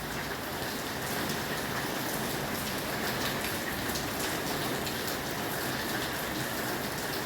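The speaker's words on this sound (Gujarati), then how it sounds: "જોઈ લ્યો જો બજારનો વરસાદ જોઈ લ્યો કેવો પડે છે" Heavy rain pours down over a town market in Jamnagar, a dense, steady roar of drops hitting roofs and pavement, loud and continuous with no voices.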